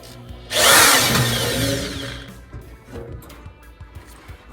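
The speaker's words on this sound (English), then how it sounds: "So I got to drill this in." Power drill boring into a range hood vent during installation: one loud burst of about two seconds that starts sharply and fades out, then quiet handling noises.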